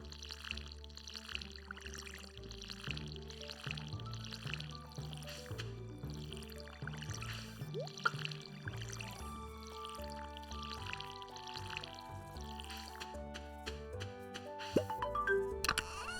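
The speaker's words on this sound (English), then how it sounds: "let's go ahead and water our crops" Crops being watered in the farming game Stardew Valley, with a series of light splashing and pouring sounds layered over steady, continuous game music.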